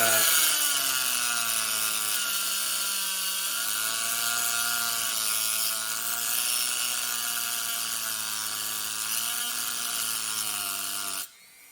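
A power cutting tool grinds through a steel peg piece on a Loctited barrel bolt, a steady high whine that runs nearly unbroken for about eleven seconds before cutting off abruptly.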